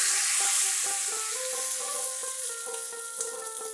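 Hot oil tempered with hing, two dried red chillies and curry leaves is poured into a peanut chutney, giving a bright continuous sizzle and crackle that fades slightly over a few seconds, alone and close.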